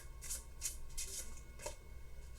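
A deck of tarot cards shuffled by hand in a quiet room, several soft riffling bursts in an uneven rhythm, close and faint with no talking.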